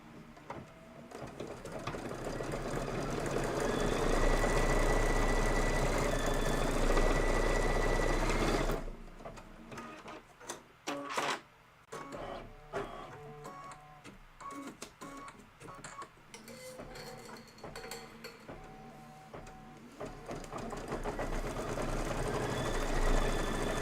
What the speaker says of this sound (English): And this is going to be 6 minutes of stitching.